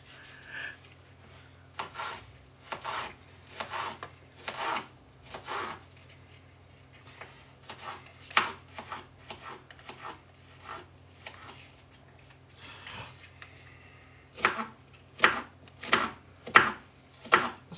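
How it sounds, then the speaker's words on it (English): A big kitchen knife chopping an onion on a board: bursts of sharp, close chops in quick runs, pausing between groups, with no talk over the cutting. "Chopping a fucking onion with like my biggest fucking knife on the rack."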